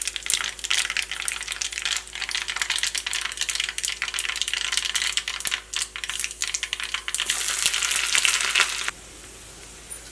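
Onions frying in coconut oil with dried red chillies in a home kitchen, a dense crackling sizzle with scattered pops that continues steadily before dropping away near the end.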